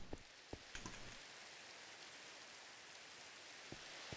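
Rain from the Minecraft video game falls as a soft, even hiss, quiet and continuous, with a few faint clicks near the start and end.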